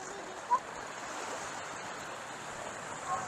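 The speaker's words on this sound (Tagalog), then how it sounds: "Malakas ang agos." A strong water current flows at Boracay beach as a soft, steady rushing wash, fairly faint, with a couple of brief bumps in it.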